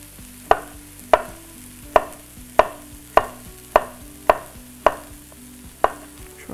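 A knife chops zucchini for lasagna on a cutting board, about ten sharp, evenly spaced knocks at a steady, unhurried rhythm, close and distinct, with a faint low hum underneath.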